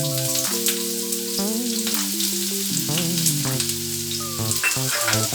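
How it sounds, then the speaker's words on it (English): Onion fries in hot oil, a soft continuous sizzle with faint scraping, heard beneath prominent melodic background music that runs throughout. "I will fry it while that is red translucent."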